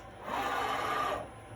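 Bridgeport Centroid 4-axis CNC vertical mill moving its X axis: a brief, fairly faint motor and drive whine that rises, holds steady for about a second, then fades.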